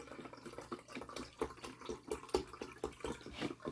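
Water is poured into a measuring cup from a container, giving a quiet burbling, gurgling pour with uneven splashy pulses that runs for a few seconds.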